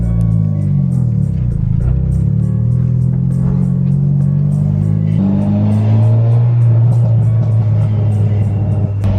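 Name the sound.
EG hatch car with screamer exhaust pipe revving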